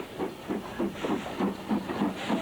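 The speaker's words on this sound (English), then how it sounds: "Here we see the train departing with the loco at the front and the rear." A steam locomotive hauls a departing train, with another locomotive at the rear, giving a steady, rhythmic series of soft chuffs with a hiss of steam, heard at a moderate distance with no talk.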